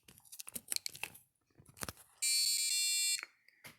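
Buzzer on a soldered stripboard Simon game sounds a loud, steady electronic tone for about a second, with shorter beeps and clicks of handling around it.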